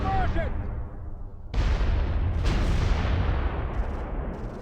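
German 8.8cm guns firing on a Soviet T-34 tank in the WWII strategy game Close Combat 3: a heavy booming blast that continues in a sustained, loud rumble, with speech faintly underneath.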